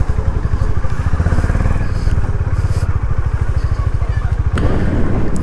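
A Honda Highness motorcycle rides off from a lakeside spot with a steady, loud engine rumble that pulses rapidly throughout. A brief clatter comes near the end.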